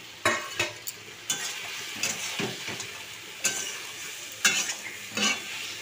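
Mustard paste mixture sautéing in a pan, a soft steady sizzle broken by repeated scraping stirs of a utensil, close and moderately quiet.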